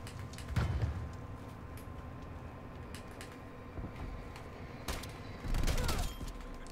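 Gunfire from a TEC-9 submachine gun in the Call of Duty Warzone video game, with two louder bursts of rapid shots near the start and end over a steady background of game noise.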